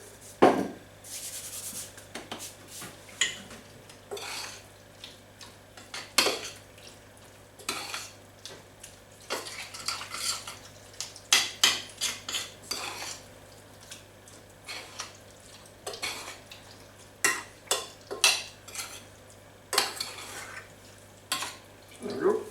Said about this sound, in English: So that's our tuna, cheese, milk and flour combining.